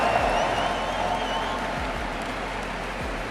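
An esports arena crowd at the 2024 LEC Season Finals grand final, Fnatic versus G2, keeps up dense, loud, continuous applause and cheering that fills the whole stretch, with a few dull thumps underneath.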